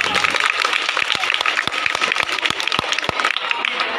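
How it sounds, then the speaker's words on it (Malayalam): A crowd applauds to welcome a guest onto the stage at a high school Christmas celebration: steady, dense clapping that fills the room, with a voice speaking over it. "ഏറ്റവും സ്നേഹത്തോടെ നല്ല നിറ കൈകളോടുകൂടെ കൈയടിയോടുകൂടെ ഈ വേദിയിലേക്ക് സ്വാഗതം ചെയ്യാം"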